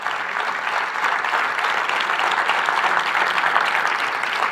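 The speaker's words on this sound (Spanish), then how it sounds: "De un aplauso fuerte al Señor." A church congregation applauds loudly, a dense, steady wash of clapping from a crowd that holds at full strength throughout without any talk over it.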